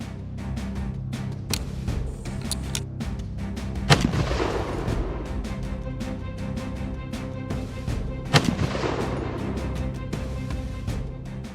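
Sharp gunshots from hunters firing at bears ring out over an outdoor background. Several crisp cracks are scattered through it and two louder reports stand out, with no voices.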